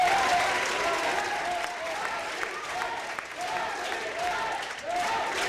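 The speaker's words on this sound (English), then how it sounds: "there were spontaneous cheers of "Yes, we can" from the crowd after a landmark immigration bill cleared the Judiciary Committee last night" After a Senate Judiciary Committee vote passes an immigration bill, the crowd in the room breaks into sustained clapping and rhythmic cheering. The sound stays loud and steady throughout, with chanting voices mixed into the applause.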